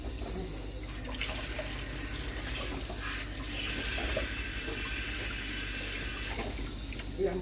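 Salt mackerel being washed under a running kitchen tap, a steady loud hiss and splash of water into the sink with people talking over it.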